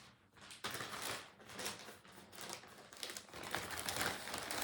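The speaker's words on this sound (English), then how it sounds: "put some double-sided tape on the back, right down the middle" Double-sided tape being handled and pressed onto the back of a webbing strap detail. Close, crinkly rustling and crackling runs steadily throughout, with a few sharper touches and no talking.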